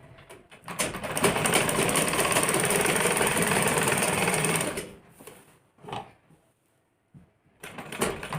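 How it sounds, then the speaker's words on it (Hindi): A sewing machine stitches a kurti collar in a long steady whirring run of about four seconds, then stops, followed by a short burst and a brief restart near the end, up close and alone. "और यहाँ पे हम 2-3 बार सिलाई मार लेंगे।"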